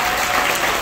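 Crowd applause at a Mother's Day celebration held by a congressman, a loud, dense and continuous burst of clapping from many people, close and even throughout the brief moment.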